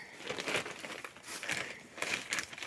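A plastic bag holding moss crinkles and rustles in several bursts of handling, close and fairly quiet, with short pauses between the crackling rustles.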